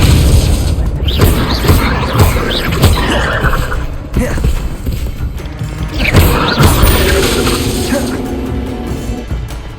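Repeated Confringo blasting spells in Hogwarts Legacy, a dense run of crashing, booming magical explosions with mechanical rattling, loud and continuous, layered under shouted spell casting.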